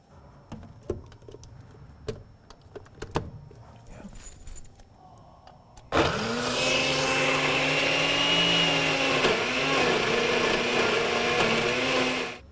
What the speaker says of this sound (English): Now we're going to put it on a blender.